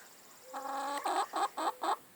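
A chicken clucks nearby, a drawn-out call followed by four short rhythmic clucks, fairly quiet against a calm background.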